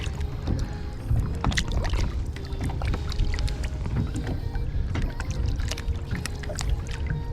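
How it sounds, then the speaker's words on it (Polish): Boat engines drone on open water with splashing and wind gusts, a steady motor rumble rising and falling as craft move nearby. "Utopią mnie zaraz te motorówki."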